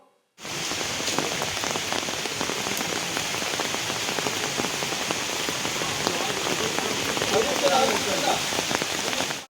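Heavy rain with strong wind pounds steadily on a surface in the Nadukani mountain pass, a thick continuous patter of drops that stays loud throughout.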